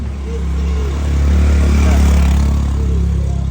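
A motorcycle engine rumbles steadily nearby on a dried-out dirt road, its drone swelling slightly as it draws closer, with no talking.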